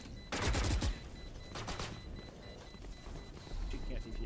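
Swarm grenade fire in the video game Valorant, a burst of sharp rapid popping blasts early on followed by a second, shorter flurry of cracks, loud against quieter game ambience.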